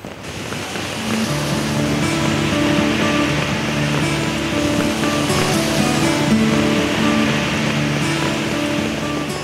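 A waterfall at Tamhini Ghat roars as a dense, continuous rush of water, loud and steady throughout with a faint low hum beneath it.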